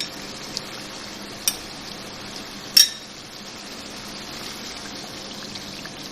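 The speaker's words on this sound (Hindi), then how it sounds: "ये मसाला मैंने भून लिया है और अब मैं दही डाल के इसको और भूनूंगी" Spice masala fries with yogurt in a pan for chicken kofta curry, a soft steady sizzle running throughout with a few light clinks of a spoon against the pan.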